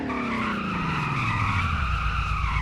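Tires squeal under hard braking in a driving video game, on a 1990s-style car sliding in a straight line. The screech is loud and continuous, with harmonic tones sliding downward as the car slows and the engine hums underneath.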